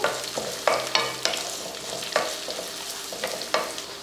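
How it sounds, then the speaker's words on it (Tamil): Green peas and onions sautéing in a pan for rava kichadi, a steady sizzle broken by regular sharp scrapes and knocks of a stirring spoon, close and without speech. "இதை நல்லா வதக்கிடுவோம்"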